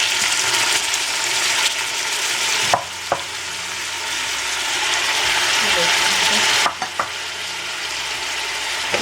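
Meat and onion frying in a pan for green beans with meat: a steady broadband sizzle runs throughout, broken by a few sharp utensil clicks and scrapes as the pan is stirred, with no talk.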